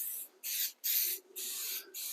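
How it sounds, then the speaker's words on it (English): Scotchgard aerosol sprayed onto the top of a summer pop-up tent in four close, loud bursts of hissing spray separated by brief pauses, with no talking. "we'll take our Scotch Guard and we're just going to spray hose this down"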